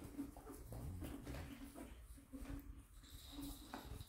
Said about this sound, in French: Ah, et vous avez Nolan qui joue avec les chiots.